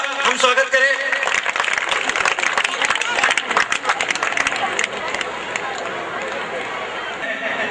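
Audience applause at a 2013 festival event welcoming the guests, among them the town's first woman municipal council president: a loud, dense burst of many hands clapping with crowd murmur, tapering to a thinner patter near the end.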